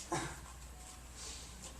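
A dog whimpers and yips briefly at a press conference, one sharp faint cry near the start, followed by quiet room noise.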